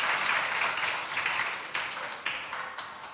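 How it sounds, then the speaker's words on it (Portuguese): Scattered clapping from a small lecture audience, fairly close, tapering off over a few seconds with a couple of louder claps near the end. "Palmas para eles"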